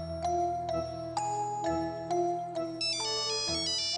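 An incoming call's phone ringtone plays loud and close: a bright, repeating electronic melody of chiming tones that climbs higher near the end, with no one talking.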